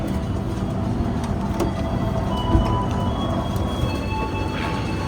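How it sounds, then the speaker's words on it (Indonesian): The Gajayana train from Cirebon to Blitar rumbles steadily with a rolling clatter of wheels on track and occasional faint squeals, heard from inside as it moves along. "Kereta udah berangkat, kita tutup pintunya."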